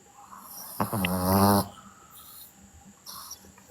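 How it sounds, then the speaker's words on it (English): A single loud, rasping snore near the microphone, one long drawn breath with faint noises around it and no speech over it. "Stop snoring."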